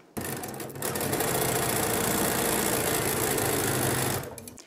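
A sewing machine stitching fabric for foundation paper piecing runs in one steady, loud, rapid mechanical whir for about four seconds, starting and stopping cleanly, with no voices over it.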